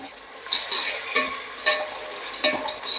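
Finely chopped sour tomatoes frying in a pan while a spoon stirs them, with bursts of loud scraping and sizzling that swell and fade in an uneven rhythm, close and with no voices.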